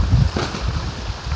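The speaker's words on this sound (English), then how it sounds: "let the wind calm down." Steady wind rushes and buffets across the microphone outdoors near a chainsaw sawmill, loud and continuous for a short moment with no other clear sounds.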